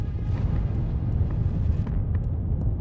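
Deep, continuous rumbling blast from an explosion at an impact point in the video game Armored Core 6, heavy low roar filling the whole stretch with faint crackles on top and no talk.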